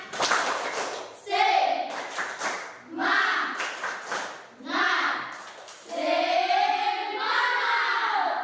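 A classroom of children claps out a rhythmic spirit chant together, bursts of clapping alternating with their chanted voices in repeated short phrases, moderately loud and close.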